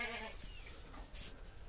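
Goats on a farm on a cold day give a short, faint bleat near the start, over steady low background noise, with no talk.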